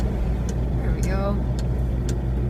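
A car drives along a narrow street with melted snow banked on either side, its engine and tyre rumble a steady continuous drone, with a voice speaking briefly over it.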